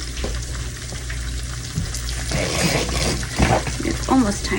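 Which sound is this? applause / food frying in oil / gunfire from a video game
food frying in oil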